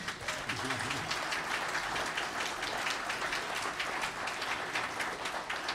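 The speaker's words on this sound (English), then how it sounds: "How about a interim round of applause?" Sustained applause from a crowd fills the room, dense steady clapping with no breaks, fairly loud throughout.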